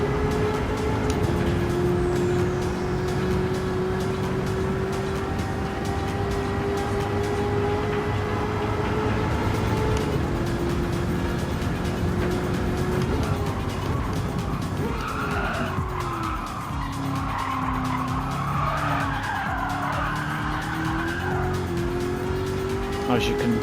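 Race car in the video game Gran Turismo 7 speeding down a straight, a loud, continuous engine drone that rises in pitch through the gears, with tire squeal and a downshift toward the end.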